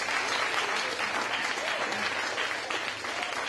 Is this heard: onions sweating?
no